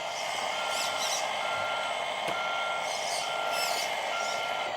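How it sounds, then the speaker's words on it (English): A 1/14-scale RC D1050 crane truck reversing, its reversing beeper sounding steady, evenly spaced electronic tones over a constant motor whine, close and loud, with a brief sharp click partway through. "brake, then reverse"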